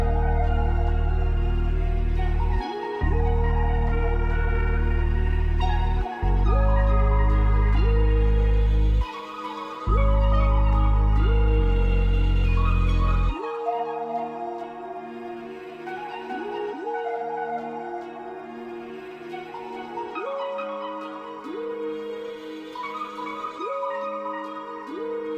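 Trap and R&B beat loop made in FL Studio, with heavy sustained bass notes under layered melodic synth chords for the first half, then the melody carrying on with the bass dropping out, continuous and fairly loud with no talk.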